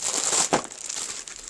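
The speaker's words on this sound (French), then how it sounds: "Elle m'a même mis du papier bulle." Bubble wrap from a parcel holding a vintage Eiffel Tower clock crinkles close up during unpacking, a short rustling burst with one sharper crackle.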